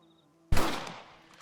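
A single rifle shot in the Red Dead Redemption video game, a sharp loud crack that fades into a short echoing tail over a quiet background hum.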